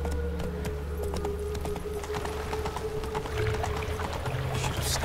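A horse gallops in The Witcher 3, its hooves beating a quick, steady clip-clop close by over a low background hum, with no talk.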